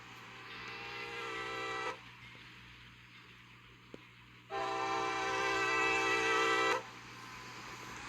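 A passing train with boxcars roars by in two loud, steady stretches separated by a quieter gap, with humming tones and rumble filling each pass close to the listener.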